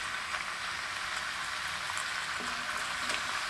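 Pieces of pork brown in hot oil in a pan for a steamed pork bun filling, giving a soft, steady sizzle and crackle that stays even throughout.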